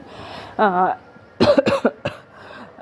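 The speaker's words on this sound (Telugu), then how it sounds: "కొంచెం కాఫ్ కూడా వస్తుంది" A person coughs several times, with a sudden cluster of harsh, close coughs and throat clearing following a short vocal sound, loud against a quiet room.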